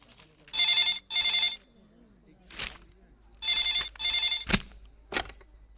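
A telephone rings in two pairs of bright electronic trills, with quiet sounds and a couple of sharp knocks between them.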